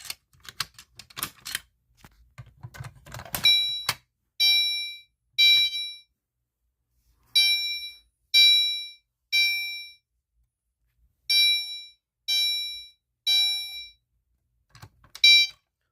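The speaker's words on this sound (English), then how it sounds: "we're gonna go ahead and start with the fire alarm by pulling 2 pull stations" A building fire alarm system sounds after two pull stations are pulled. Clattering handling noise comes first, then loud, harmonic-rich horn blasts repeat in groups of three with brief gaps between the groups.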